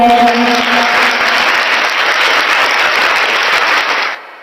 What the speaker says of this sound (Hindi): आप सभी का हमारे YouTube चैनल पर तालियों के साथ स्वागत है